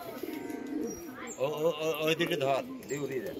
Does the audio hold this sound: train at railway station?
no